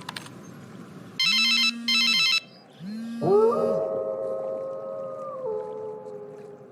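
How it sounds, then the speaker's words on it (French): Telephone call after a number is dialed: quick dial tones, then two ringback tones, followed by a sustained ringing warble that continues steadily to the end, clear and prominent. "Je compose son numéro."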